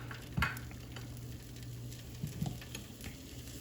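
Lemons sizzling in a hot skillet alongside a king crab, shrimp and sausage dish, a steady close frying hiss with a low hum and a couple of brief stirring clatters.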